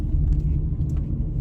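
A car rolls into a parking spot at a workplace lot, its engine a low steady rumble close by with faint tire and road noise, no voices.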